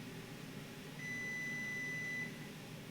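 A kitchen timer gives a single steady electronic beep lasting about a second, clear over the low hum of starter wort boiling on a stove in a home brewing setup.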